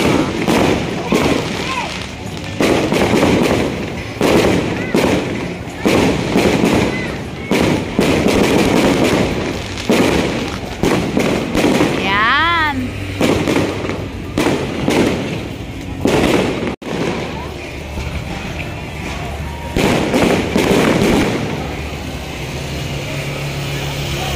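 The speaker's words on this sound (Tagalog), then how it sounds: "Naman namin nanonood ng fireworks." Repeated booming bursts and crackles of fireworks go off through the scene, with a crowd talking and chattering underneath the whole time.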